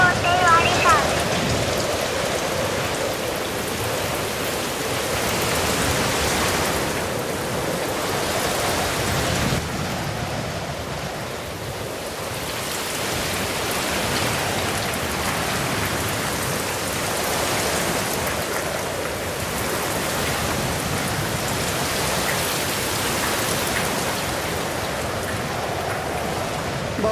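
Heavy rain pours down steadily in a loud, continuous hiss, with people talking faintly underneath.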